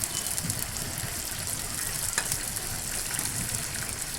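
Onion sizzles in a pan with cumin powder, cinnamon and cardamom, giving a steady, close frying hiss with soft crackles that stays even throughout.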